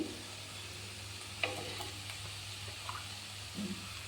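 Thummi leaves frying in oil, a soft, quiet sizzle under a low steady hum, with a few faint clinks and stirring scrapes scattered through it.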